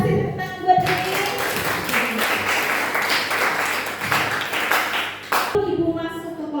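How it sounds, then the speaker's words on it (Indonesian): A classroom of students applauds a classmate, a loud burst of clapping that lasts several seconds, with a teacher's voice just before and just after it. "Oke, terima kasih tepuk tangan buat Iin."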